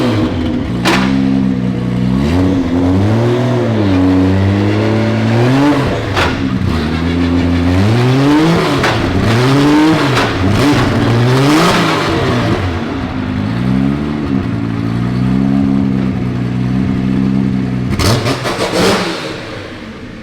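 A 1000 hp JZ-engined pro car revs hard and loud up close, rising and falling in repeated sweeping pulls over twenty seconds, alone without talk.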